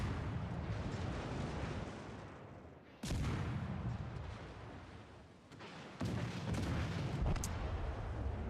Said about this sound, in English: That is the slowest firing Fletcher I've ever seen in my life.